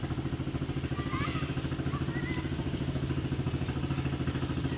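A motorcycle engine chugs steadily at close range, its rhythmic putter continuing throughout with some faint clatter and distant chirps above it.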